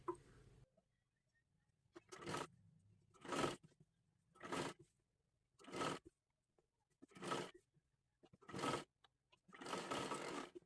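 A sewing machine stitches along the edge of a kurti in seven or eight short, buzzing bursts with brief silent pauses between them, close by and fairly quiet, the last run lasting longest.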